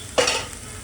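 A masala for dry-style mutton is sautéed in a pan over low heat, giving one brief scraping stir against a soft background sizzle, close up.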